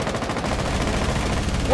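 Rapid automatic gunfire rattles in a fast, even stream during a video game match, loud and close throughout, with a voice briefly at the end.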